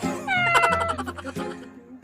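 A house cat gives a drawn-out meow that wavers in pitch, close and clear, followed by a shorter second cry as it trails off.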